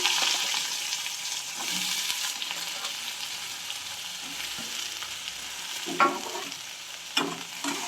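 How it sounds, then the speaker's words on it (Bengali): Cut potatoes and eggplants fry in a pan with a steady hiss of oil, stirred now and then with scraping clatters, a couple of sharper knocks standing out near the end. "এবার কেটে রাখা আলু আর বেগুনগুলো দিয়ে দেবো।"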